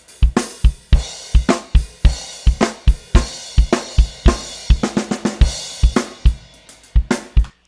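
Drum kit mix with a close room mic blended in, playing a steady groove of punchy kick and snare hits with cymbal wash and a roomy, reverb-like tail on each hit, loud and up front with no talking.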